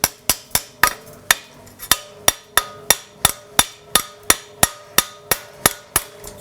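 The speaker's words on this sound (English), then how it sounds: "I'll give it a bit of a tap." Hammer taps on a recumbent bicycle seat frame, about twenty sharp metallic strikes at a steady brisk rhythm, close and clear with ringing decay, no talking.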